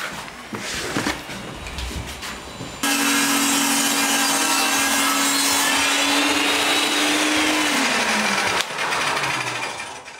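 A SawStop JSS-MCA portable jobsite table saw rips through wood, its loud, steady motor whine and cutting roar holding for several seconds before spinning down, with softer handling noise before and after.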